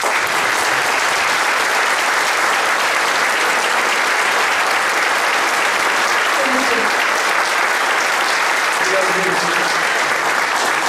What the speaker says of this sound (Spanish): Fuerte el aplauso para Víctor.